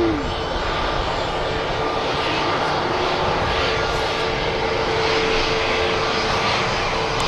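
An airliner taxis at Manchester Airport with a steady, loud engine roar and whine that holds throughout, joined by a faint rising tone near the start, with no talk.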